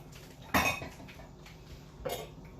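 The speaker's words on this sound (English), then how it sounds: "Mix that all in there." Shrimp being stirred into a pot of crab and shrimp etouffee, with two distinct clattering bursts of spoon against pot, the first sharper and louder, over a quiet kitchen background.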